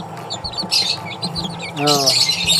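Serama chicken chicks cheep in high, rapid bursts nearby, with a brief low clucking and a voice speaking in the background.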